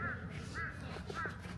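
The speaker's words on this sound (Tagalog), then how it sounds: "Tapos may mga uwak! Uwak! Uwak!" Crows cawing on Nami Island in South Korea, three short harsh calls at an even pace, faint and distant over steady background noise.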